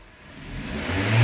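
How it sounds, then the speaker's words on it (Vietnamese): A Toyota engine with an electronic throttle body rises from a smooth idle of about 600 rpm as the accelerator is pressed, the revving building steadily louder over the whole moment. "Lúc này anh em thấy là đạp ga thì bướm ga có mở và tua máy có tăng lên đó"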